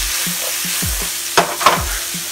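Onions sauté in bacon fat in a hot pan: a steady close sizzle, with a couple of sharper scraping stirs near the end.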